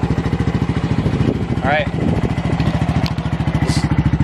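A Honda Grom motorcycle engine thrums loudly and close with a pulsing, repetitive beat throughout. A person speaks briefly over it.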